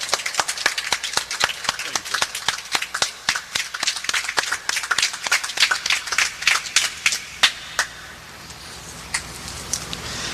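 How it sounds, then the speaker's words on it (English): A small audience gathered at Earl Fard Muhammad House in Atlanta, Georgia claps for Supreme Minister John Muhammad, sharp, sparse hand claps ringing out in a loose patter for several seconds before thinning out. "let's give our Supreme Minister a round of applause."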